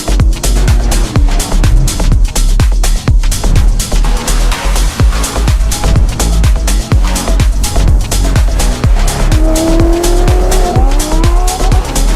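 A widebody Ferrari F12 with an F1 exhaust drives hard, its loud, harsh engine revving rapidly through repeated gear changes, close and constant, with a rising whine near the end.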